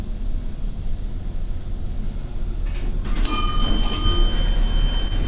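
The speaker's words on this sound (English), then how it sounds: "Ooh, that's a bad bell." An elevator bell rings several times in a run-down parking garage with long traction elevators, a bright sustained metallic tone over steady background hum.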